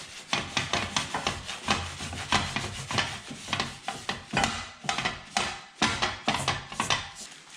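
Bread slices are rubbed with a drop of oil in a pan while a toastie is made, giving a close, steady run of soft rhythmic rubbing and scraping strokes with no talk.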